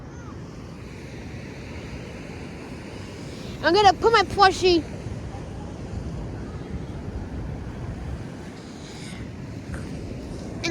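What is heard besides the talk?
ocean waves on the shore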